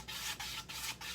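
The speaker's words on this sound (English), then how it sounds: "I do like to sandpaper it and bring some of those colors out" Sandpaper rubs over a painted, stained wooden bread paddle in quick back-and-forth strokes, four close, steady rasping passes with short pauses between them and no talking.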